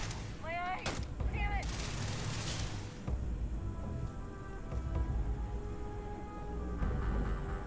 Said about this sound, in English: Yeah, the guy's shooting at me.